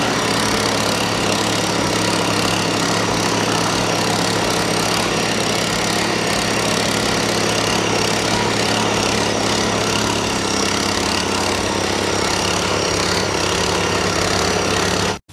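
A 7.5 HP model 117 machine fitted with a 5-foot rotavator runs continuously, a loud steady mid-pitched engine drone with rhythmic mechanical churning that holds unchanged throughout before cutting off abruptly at the very end.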